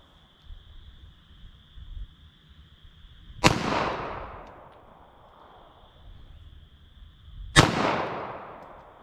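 Two sharp handgun shots, 9mm +P or .357 Magnum, fired outdoors about four seconds apart, each a loud crack with a decaying echo, a steady high tone in between.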